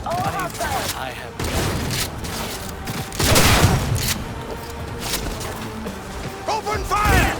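Bursts of gunfire and impacts fill a firefight in the video game Cyberpunk 2077, with loud rapid shots, booms and clatter across the whole stretch while voices call out and talk over the action.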